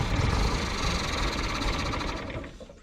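An abandoned 1967 International Scout's engine idles close by with a steady, rapid mechanical chatter, then quiets and fades toward the end.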